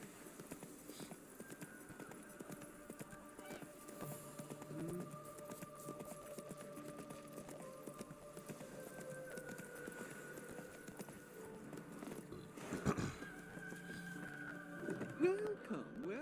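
Hooves of the horse Roach clip-clopping at a steady rhythm in The Witcher 3, faint and continuous under quiet ambient game music, with a louder thump near the end.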